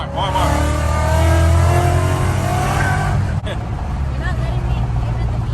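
A car engine in third gear revs hard as it accelerates, a loud, steady, rising drone that eases slightly near the end, with people talking over it.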